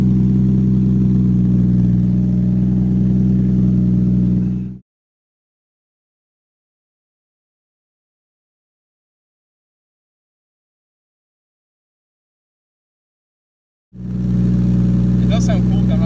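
A car with a 1JZ engine fitted with a Powerstroke diesel exhaust produces a low, steady engine rumble, then cuts to about nine seconds of silence before the same droning sound returns near the end.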